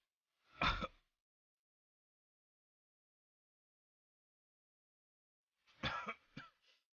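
Two bursts of coughing separated by a long silence: a single harsh cough, then a couple of rougher coughs several seconds later, close by.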